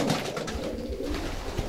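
Pigeons coo in a racing-pigeon loft, their soft throaty rolling calls repeating close by over a busy background of fluttering and shuffling.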